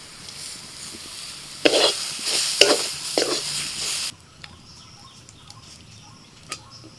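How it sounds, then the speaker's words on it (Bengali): Soybean paste is stirred in a frying pan, with a few scraping strokes and faint sizzling up close, followed by a quieter stretch with light clinks. "নাড়াচাড়া করতে করতে সয়াবিনটা শুকনো শুকনো হয়ে আসবে"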